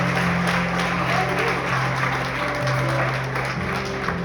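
A church congregation applauds during a worship service: steady, dense clapping fills the whole stretch, with sustained organ or keyboard tones humming underneath.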